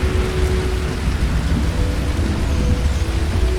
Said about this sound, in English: The rain is coming from very small clouds, as if the planet is sucking the water out of them.